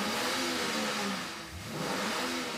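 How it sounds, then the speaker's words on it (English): A Chevy Camaro engine roars at the New York Stock Exchange, a loud broadband rumble that swells, dips briefly, then surges again, continuous with no voices. "the sound of a roaring Chevy Camaro engine"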